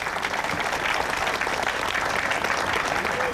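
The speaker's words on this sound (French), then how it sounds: "Je vais vous demander d'applaudir Iñaki" An audience at a fronton in Nouméa applauds for a Basque pelota player, producing a continuous, even wash of crowd clapping.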